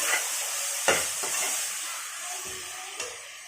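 Ginger garlic paste and tomatoes frying in a pan for prawn biryani, a steady sizzling hiss broken by a few scraping strokes of a spoon as the mixture is stirred.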